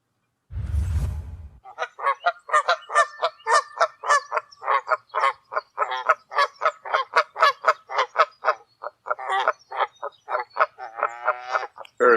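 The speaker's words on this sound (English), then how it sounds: "So the Canada goose is probably a sound that lots and lots of people have heard" Canada goose honking in a long rapid series of loud, nasal calls, close and clear, following a short low rumble at the start, with no talking.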